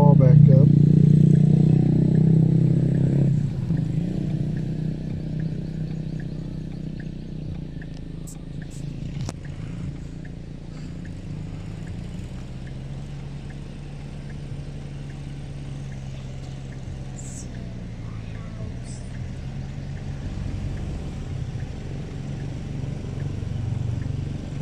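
A tractor works a muddy rice field in the Philippines, its low engine drone loud at first and then fading to a steady rumble, with occasional clatter and faint distant sounds.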